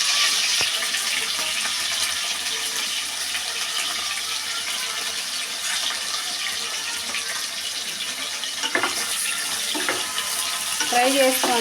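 Paneer cubes fry lightly in hot oil for a biryani, giving a steady, close sizzle that runs throughout, with occasional stirring scrapes and clinks near the end.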